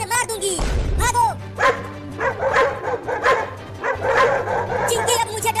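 Two dogs barking and yipping close and loud in rapid, overlapping bursts, with a few whimpers and voices speaking over and between the barks.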